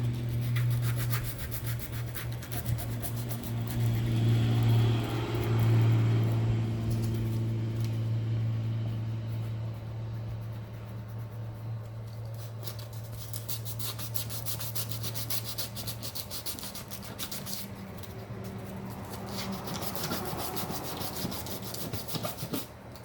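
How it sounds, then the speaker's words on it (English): Hand sanding of shiny car wheel surfaces before painting, a continuous close rubbing and scraping rasp that keeps a steady back-and-forth pace, heavier at first and then lighter. "we're just going to sand all of these surfaces"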